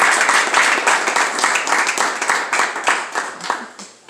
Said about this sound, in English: So can you give the CO an applause?